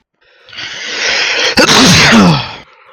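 A single loud, close sneeze: a sharp inhaled buildup that bursts into a breathy, forceful exhalation and trails off quickly.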